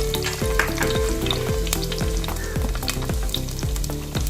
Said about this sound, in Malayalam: ചെറിയ ഉള്ളി അതും ചതച്ചതാണ് നന്നായിട്ട് വഴറ്റിയെടുക്കാം